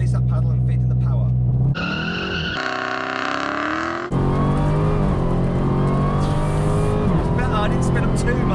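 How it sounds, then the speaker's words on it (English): A Dodge Demon launches hard as the driver releases a paddle and feeds in power, its engine roaring loud and close with tire squeal through a drag-strip run, a brief lull midway, then renewed sustained engine noise. "I'm going to release that paddle and feed in the power"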